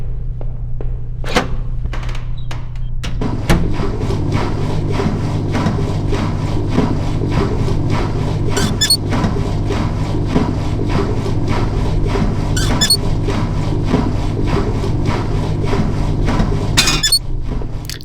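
A valve wheel is cranked inside a PC horror game called Home, a continuous grinding, creaking rotation that runs loud and steady for most of the stretch, punctuated by occasional sharp metallic clinks and a few thuds early on.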